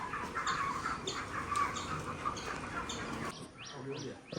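Chickens at a chicken shop cluck and chirp repeatedly amid busy background noise, with some faint voices nearby.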